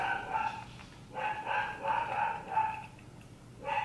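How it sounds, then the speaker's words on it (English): Several dogs bark in short, harmonic bursts at a moderate distance, a few spaced yelps across a few seconds with a quiet background. "my dogs are barking"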